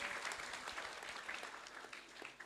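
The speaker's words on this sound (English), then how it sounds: "Please give applause for her." Audience applause for a nursing lecturer at a university lecture, a fairly faint but steady patter of many hands clapping that fades slightly toward the end.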